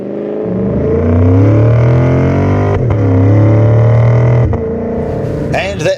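A Lexus IS500 V8 engine revs hard from idle up to its rev limiter, holding a loud, steady high-rpm note, briefly dipping and climbing again, then bouncing off the limiter with sharp cuts before dropping away.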